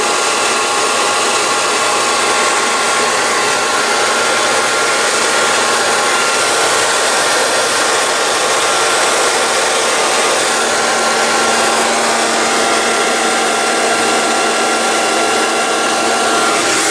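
A hair dryer runs at full power off an electric converter setup, a steady loud broadband whoosh with a faint tonal hum, continuous for the whole stretch with no voices.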